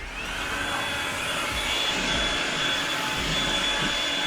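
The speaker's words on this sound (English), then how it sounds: "So I got a blower here." A handheld blower clears ash out of the firebox of a big rotisserie smoker, making a loud, steady whooshing roar with a thin high whine that holds without a break.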